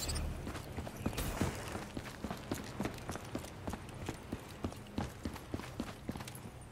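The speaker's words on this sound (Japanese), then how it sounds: "足音はしないな。 してるな。" Rapid, regular footsteps of a player character in Call of Duty: Black Ops 3 as it moves indoors, a steady run of close, crisp steps over a low rumbling game ambience.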